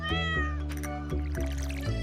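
A cat meows in Stardew Valley, a game sound with a drawn-out tonal cry at the start and light chimes and music running steadily underneath.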